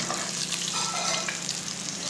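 Chicken strips fry in hot oil with an even, crackling sizzle, continuous and close, without any talking.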